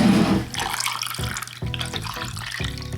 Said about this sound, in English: we just need to top them up with that same amount of cold water